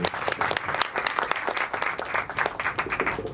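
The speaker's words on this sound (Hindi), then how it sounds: "तो जोरदार तालियां पहले तो उनके लिए।" An audience at a song launch and screening event applauds loudly, a dense burst of many hands clapping at once, steady and close throughout the short stretch.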